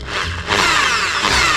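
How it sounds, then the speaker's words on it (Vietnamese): A power drill boring holes into a wooden mold, a loud continuous whine that briefly dips and then surges back up close by. "Bây giờ anh em tôi sẽ bắt đầu đo và bắt đầu khoan lỗ nha."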